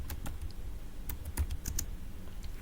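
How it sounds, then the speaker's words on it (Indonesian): Computer keyboard keys being tapped to enter an nmap scan command, a close, quiet run of irregular clicks alone in a still room. "kita ketikkan langsung saja, kita ketikkan menggunakan nmap"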